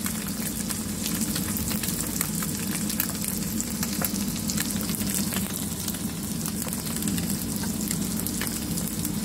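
Arroz caldo with pork and tokwa cooks in a pot, a dense, even frying hiss with soft bubbling and light stirring underneath, steady and close throughout with no voices.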